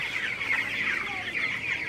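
Broiler chickens in a shed, about three weeks old, give a dense, unbroken chorus of high cheeps and clucks at an even level, with no talk.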